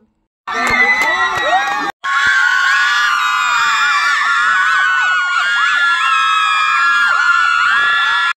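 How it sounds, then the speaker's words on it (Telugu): A crowd screams and cheers at a polytechnic volleyball match, loud and continuous, with whoops and children's shouts that break off for an instant and then surge back. "వీడియోలో చాలా వరకు అరుపులే ఉంటాయి"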